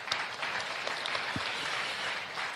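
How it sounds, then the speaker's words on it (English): Applause from a seminar audience after an introduction of a Nobel Prize-winning physicist: a steady, moderately distant patter of many hands clapping, fairly quiet and sustained throughout. "Give a big round of applause,"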